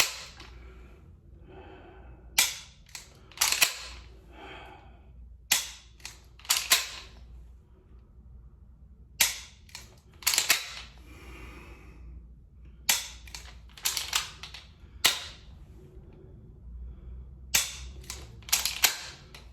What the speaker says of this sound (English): The last thing I'm going to do is just some presses to make sure that my dot is not moving